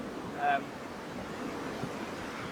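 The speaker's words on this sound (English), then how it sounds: "if it's windy like it is today" Steady, fairly faint wind noise rushes across the microphone, with a brief higher tone near the start.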